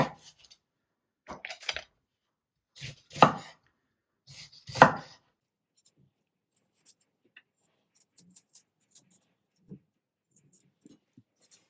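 A knife cuts peeled apple and pear into large chunks for mulled wine, a few close, sharp chopping thuds in quick clusters early on, then near silence with faint small knocks.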